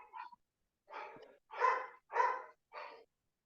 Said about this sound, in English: Can you hear my dogs barking in the background?